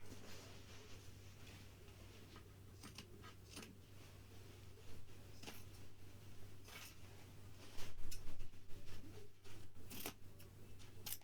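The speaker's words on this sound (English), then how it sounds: "These are really good scissors." Faint, intermittent snips and crisp cutting sounds from scissors cutting upholstery fabric over a low steady hum, growing a bit louder and busier toward the end.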